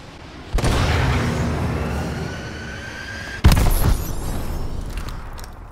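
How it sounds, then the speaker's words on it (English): Repeated missile strike explosions in Call of Duty: Advanced Warfare, a loud boom opening a long rumbling roar, then a second sharp blast midway with crackling debris and distant detonations. "Friendly missile strikes incoming."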